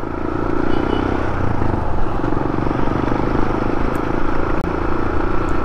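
A Suzuki Burgman 110 scooter engine runs loud and steady nearby, a continuous buzzing drone with no pauses over several seconds.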